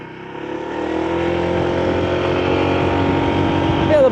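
A Honda ADV160 scooter engine hums steadily while riding on the road, a close, even drone that rises slightly in pitch toward the end, with some wind noise mixed in.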